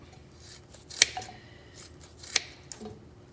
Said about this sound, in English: And then you just start cutting the bacon up.